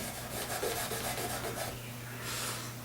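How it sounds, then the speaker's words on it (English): Gunk is scrubbed off a guitar fretboard with soft repeated rubbing strokes, faint and close over a low steady hum. "I clean all the gunk off the fretboard itself"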